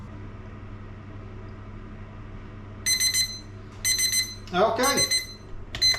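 Beeping oven timer alarm in a home kitchen, sounding in short repeated bursts of a few beeps each, with a brief spoken word between them.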